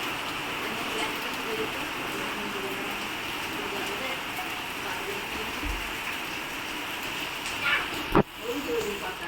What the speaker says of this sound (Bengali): কেমন বৃষ্টি শুরু হয়েছে দেখো বন্ধুরা